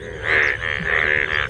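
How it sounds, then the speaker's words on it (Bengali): A few loud, close croaks from yellow frogs in quick succession, each a buzzy rattling call. "সেটা হলো এই ব্যাঙের ডাক।"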